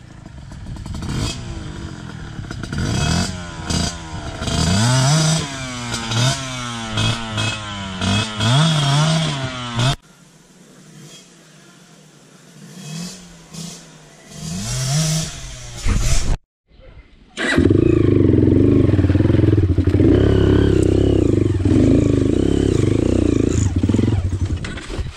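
A trail motorcycle engine revs hard on a steep climb during a two-day trail ride in Bagac, Bataan, loud and close, with harmonic rises and falls, a brief drop-out midway, then a sustained heavy roar to the end.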